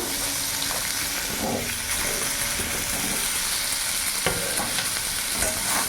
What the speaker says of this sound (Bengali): ওই তেলের মধ্যে আলুগুলো ভেজে নেব আলু গাজর সব একসাথে আমি ভেজে নেব